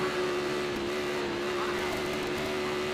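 Kawasaki Formula Pacific race motorcycles run at speed on a circuit, producing a steady, loud, high-pitched engine whine that holds a constant tone throughout.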